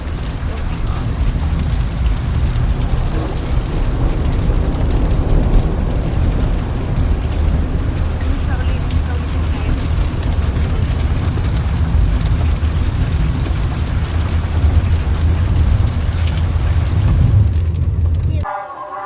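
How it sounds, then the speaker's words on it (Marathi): Heavy rain pours steadily over a village road, a loud, dense roar that holds for the whole stretch with a deep low rumble underneath, then cuts off abruptly near the end. "इथे पाऊस येतोय."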